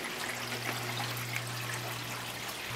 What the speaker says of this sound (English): Those pipes are then terminated with two drip emitters, and those emitters reduce the water flow to that kind of speed.